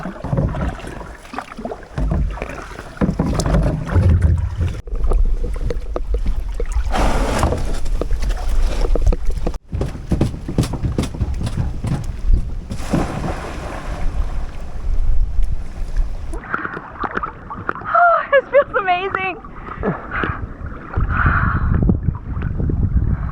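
A two-person rental kayak glides over a sunny river in northern Portugal's Gerês area, with steady paddle splashes and water sloshing under gusty wind buffeting the microphone.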